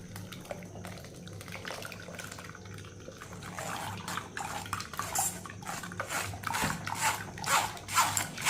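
Blended beetroot and apple juice is strained through a kitchen sieve, giving soft liquid splashing and trickling with light clinks of utensils against metal, close and quiet throughout.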